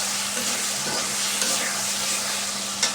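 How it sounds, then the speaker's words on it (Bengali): Spice masala fries in oil with a dense, even sizzle while being stirred, plus a couple of faint scraping knocks, close and continuous without speech. "মশলাটা ভালোভাবে কষিয়ে নেব।"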